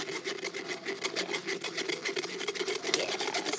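Strawberry lemonade is blended in a steady, rough motor whir with a grinding texture, running continuously at close range while rain patters faintly in the background.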